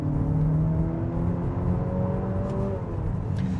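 A 2025 Nissan Murano Platinum accelerates hard from a standstill without brake torquing, its engine note droning loud and steady with rising tones, heard alone without voices.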